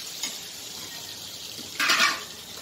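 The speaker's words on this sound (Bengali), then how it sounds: "পটলটা মাঝে মাঝে একটু নেড়ে দেবো" Pointed gourd (potol) frying in a pan with salt and turmeric is stirred, giving a soft scrape at the start and then a brief, louder clatter and sizzle under a steady background hiss, close by and without talk.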